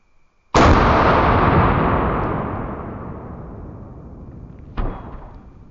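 A single loud rifle shot fired with a Hornady VMAX bullet, a sharp blast whose long rolling echo fades over several seconds, followed by a fainter second report near the end.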